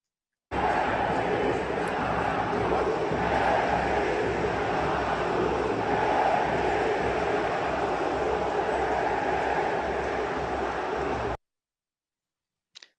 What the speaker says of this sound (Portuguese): vamos ouvir o vídeo com as vaias do Tite